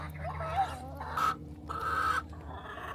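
Chickens cluck in a backyard coop in Arizona, several short rising clucks and calls close by over a low background hum, in two or three bursts across a few seconds.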